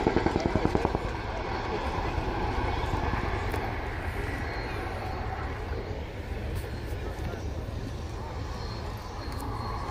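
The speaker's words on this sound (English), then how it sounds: "Hard to imagine that that is a 15-ton helicopter there in front of you" An RAF Chinook, a 15-ton twin-rotor helicopter, flies a display at an air day, its broad rotor roar loud and continuous, with a quick rhythmic chop at the start, and voices faintly mixed in.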